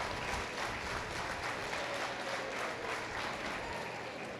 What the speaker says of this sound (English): Let's give them a big round of applause for making it back out.